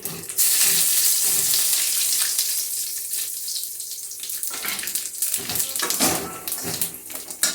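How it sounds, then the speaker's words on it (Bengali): Whole spices, bay leaves and cumin hit hot oil for a tempering, starting with a loud, steady hiss that settles into uneven crackling and spitting. "এখানে নিয়েছি গোলমরিচ কয়টা, লং, এলাচ, দারচিনি আর জিরে ফোড়নে দিয়ে দিচ্ছি।"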